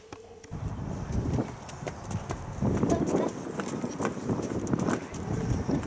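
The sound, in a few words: donkey hooves clip-clopping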